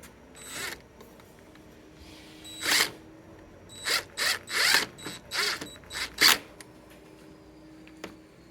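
A series of short, sharp mechanical whirring bursts from a power drill pre-drilling a screw hole, spinning briefly in quick succession, close by with quiet pauses between.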